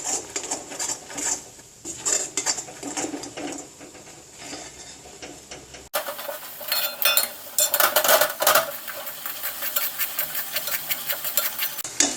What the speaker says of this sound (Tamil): கைவிடாமல் நல்லா கிளறிக்கிட்டே இருக்கணும்